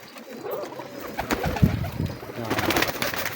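Breeder pigeon chicks and adults in a loft give soft, low cooing calls, a few murmuring coos rising over faint background rustle, close and moderately quiet.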